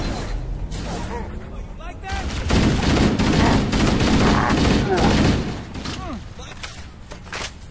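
Rapid assault rifle fire bursts loudly in Halo: CE Anniversary, thickening into a sustained volley midway before easing back to scattered shots, with voices talking over the gameplay.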